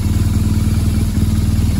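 A BMW R 1200 GS Adventure motorcycle engine idles while warming up after washing, a loud, close, rhythmic boxer-twin pulse with slight clatter, no talk.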